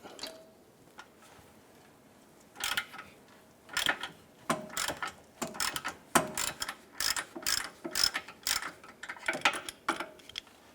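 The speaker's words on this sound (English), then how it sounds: "we'll go ahead and loosen up the rearward bolt beside it." A hand ratchet loosens the rearward control arm bolt on a 2010-2016 Cadillac SRX, giving bursts of sharp clicking strokes up close in an irregular rhythm after a quiet start, with no talking.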